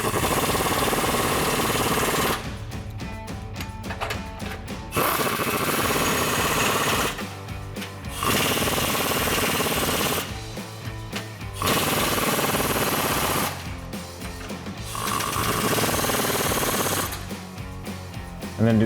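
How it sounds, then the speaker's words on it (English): An impact gun tightens sway bar bolts on a Jeep Wrangler JL, sounding as four loud, rattling bursts of a few seconds each that alternate with stretches of a steady running noise, close up with no talking. "grab your impact gun, and we're just going to go back and forth on our 2 bolts"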